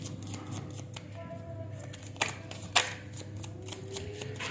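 Tarot cards being shuffled by hand during a Hindi tarot reading, a soft steady riffling with a couple of sharper snaps, close and alone with no talking.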